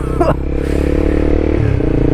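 A motorcycle with bad, smelly exhaust passes close by on the way to a tennis match, its loud, rough engine drone holding steady with a rattling clatter before shifting pitch as it moves away.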